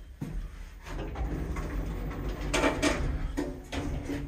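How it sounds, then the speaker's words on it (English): Lift doors in a Telford Town Centre shopping-centre lift rated 680 kilograms and eight persons slide open and shut, giving a continuous mechanical hum with several short whooshing sweeps and clunks, heard close up. "Doors opening. Doors closing."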